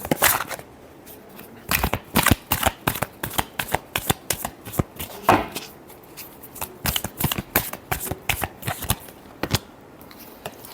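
Tarot cards are shuffled by hand up close, giving a steady, brisk run of papery riffles and slaps that repeats with small pauses and stays clear and unbroken.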